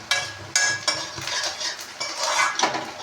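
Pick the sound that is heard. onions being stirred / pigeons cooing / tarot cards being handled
onions being stirred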